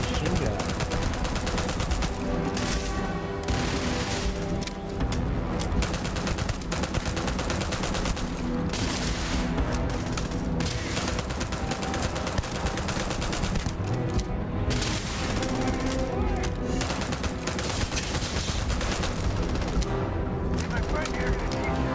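Rapid machine gun fire in the space game Starfield rattles in dense, loud bursts almost without pause, mixed with other heavy gunshots and booms, with voices talking underneath.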